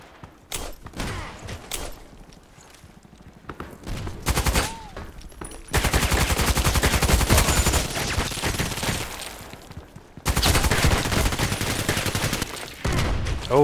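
FN SCAR-L rifle fire in the Contract Wars video game, with scattered single shots giving way to long sustained bursts of rapid automatic gunfire, loud and close.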